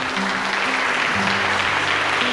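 A church congregation applauds, a dense, steady roar of clapping that fills the room and stays loud throughout, with no voices rising above it.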